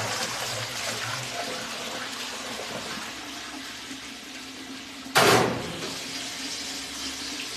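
Water from a hose rinsing out a fryer during cleaning: a continuous hissing spray and splash running throughout, with a sudden sharp burst of louder gushing near the end.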